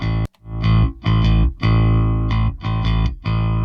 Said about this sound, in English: Let me show you what that sounds like with the bass guitar first